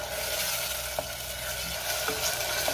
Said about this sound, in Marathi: टोमॅटोची पेस्ट सुद्धा मी 2 ते 3 मिनिटं चांगली परतून घेणार आहे